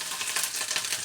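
Cumin, crushed garlic and fresh ginger tempering in hot oil for gobi manchurian, giving a steady, close, hissing sizzle with no voices.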